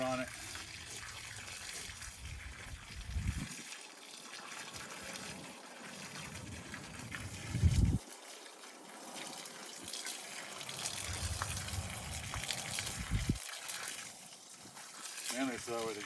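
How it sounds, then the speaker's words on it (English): Water from a hose gushes and splashes steadily onto soil, rising and falling in strength, with a person talking intermittently under the flow. "I'm going to add in some water, or start watering now"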